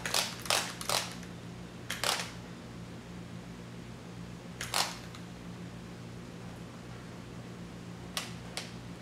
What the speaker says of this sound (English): Handy dandy torque wrench. Set her to 15 foot-pounds.